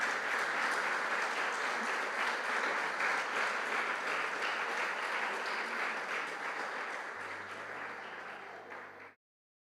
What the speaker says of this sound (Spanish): Dale un fuerte aplauso a la presencia del Espíritu Santo